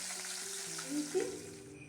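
Rohu fish, rubbed with salt and turmeric, fries in hot oil in a wok, giving a soft continuous sizzle with a couple of brief louder spits and crackles, fairly quiet and close.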